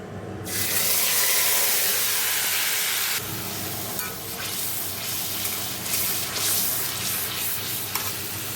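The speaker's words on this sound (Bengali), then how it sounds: "কাঁকড়াটাকে একটু ভেজে নেব" Crab fries in hot oil seasoned with whole garam masala, giving a loud, steady sizzle close by, with a sharp burst as it hits the pan and light stirring scrapes throughout.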